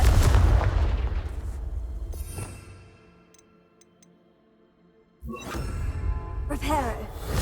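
Confringo blasting spell exploding in Hogwarts Legacy, heavy booming bursts at the start and again after a quiet stretch, loud and close with game sounds layered over them.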